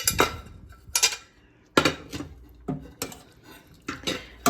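Mushrooms tipped into a pot of steak and potato soup give several sharp clanks and clinks of metal against the pot, spaced out in separate bursts and heard up close with no talking.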